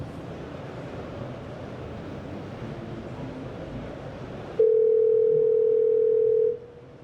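A phone call being placed, with a line ringing before a virtual customer-service agent picks up: a steady, loud single-pitch tone holds for about two seconds after a stretch of broadband noise, then cuts off abruptly.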